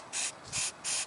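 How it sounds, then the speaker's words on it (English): Chain cleaner sprays onto a motorcycle chain in three short, loud hissing bursts, evenly spaced and close to the microphone, with no talking. "I'm gonna spray it with the chain cleaner again."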